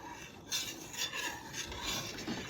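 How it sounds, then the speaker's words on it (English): A wooden spoon rasps and scrapes steadily around a pot of green tomato hotdog relish on the stove, a continuous close rubbing with small swells and no voices. "while I'm stirring it, we're going to bring this to a boil"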